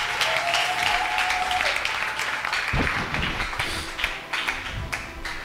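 Church congregation applauding and cheering in praise of the Lord, a dense, steady burst of clapping with scattered voices throughout, loud and close.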